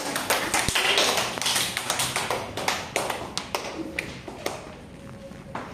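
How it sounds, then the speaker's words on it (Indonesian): Classroom applause from a group of students, a dense patter of clapping hands that thins toward the end, fairly close and loud. "Tepuk tangan."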